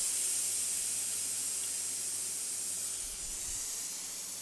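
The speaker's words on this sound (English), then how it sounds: "This is leaking, but this hose is old and it's not the main hose that I use" Compressed air hissing steadily from a leak in an old air compressor hose, a continuous close broadband hiss with a faint low rumble underneath and no talking.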